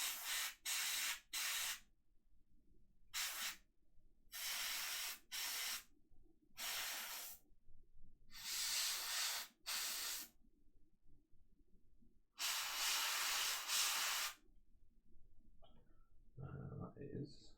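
Short bursts of aerosol spray paint hiss up close while Legion of Everblight tabletop miniatures are coated, about a dozen blasts of varying length separated by brief gaps, with faint talk near the end.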